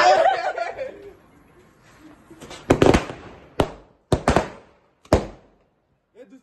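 Big firecrackers go off at a night birthday celebration: about five sharp, loud separate bangs at irregular intervals, following a stretch of voices and laughter at the start.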